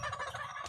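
A brief, faint burst of warbling pigeon calls, a quick gobbling trill lasting under a second.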